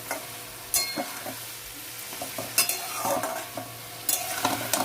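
Chopped ginger and green chilli sizzling in a pan with oil and a little water, heard as a soft continuous fry with several sharper bursts as the mixture is stirred.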